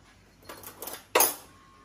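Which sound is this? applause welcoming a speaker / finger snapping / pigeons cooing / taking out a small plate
taking out a small plate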